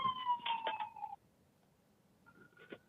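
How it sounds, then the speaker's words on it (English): A passing ambulance siren sounds as a steady tonal wail for about a second, cuts off, then returns faintly toward the end over quiet room noise. "there's an ambulance passing by. I don't know if you can hear it."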